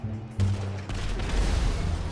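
Explosion in GTA 5: a sudden loud blast hits after a brief lull, followed by a rolling low rumble that lingers to the end.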